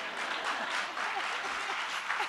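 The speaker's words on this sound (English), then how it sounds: "Yeah, you could clap." An audience at a talk claps in a short burst of applause, a moderate, steady patter of many hands lasting a couple of seconds.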